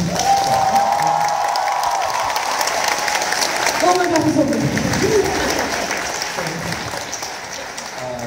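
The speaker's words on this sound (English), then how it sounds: "Could you get another round of applause?" A university lecture audience applauds and cheers steadily, the clapping gradually fading, while a voice exclaims over the crowd.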